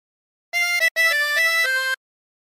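Harmonica playing a short phrase of Bella Ciao with bent notes, a few clear reedy tones with one brief break, loud and close, heard alone against silence.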